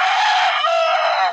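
A rooster crows loudly and close by in one sustained, strained call lasting just over a second, with no voices over it.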